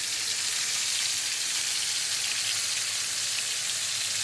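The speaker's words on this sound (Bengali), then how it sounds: "এই এখন ভাজা দিয়ে দিচ্ছি" Snakehead fish pieces rubbed with turmeric, chili and salt sizzle steadily in hot oil in a pan, a dense, continuous close crackle with no pauses and no voices.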